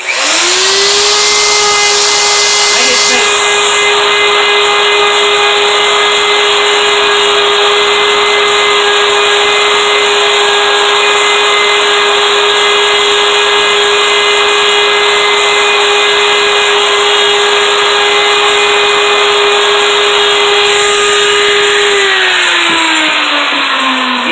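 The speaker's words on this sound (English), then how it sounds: "I'm gonna go ahead and just clean that out with a 90 degree bit." A router fitted with a double-fluted 90-degree V-bit carves inset letters into a wooden sign, a loud, steady high-pitched motor whine that spins up, holds for about twenty seconds and winds down, with the bit's cutting noise layered over it and no talking.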